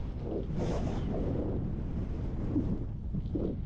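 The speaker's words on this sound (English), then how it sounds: "Alright, so it's super windy. Super windy." Strong gusty wind buffets the microphone in a continuous low rumble, with faint whooshing swells and no voices.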